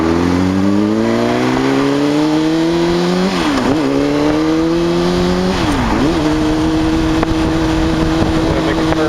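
A motorcycle engine revs up steadily as the bike pulls away, with its pitch climbing, dropping twice at gear shifts, then rising again, and a steady rush of wind behind it.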